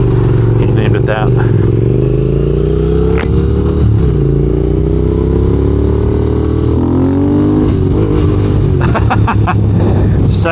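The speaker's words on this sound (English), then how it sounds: "Second gear wheelie. Just snap that throttle, man." A motorcycle engine revs hard and steadily up close as the throttle is snapped for a second-gear wheelie, a loud continuous drone with rising pitch that fills the whole clip under wind noise.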